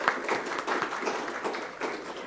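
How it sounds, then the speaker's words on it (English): Applause for the judges at a university investigative journalism prize ceremony, a steady wash of hand clapping from a crowd lasting the whole moment, fairly close and with no voices over it. "So a big round of applause for our judges"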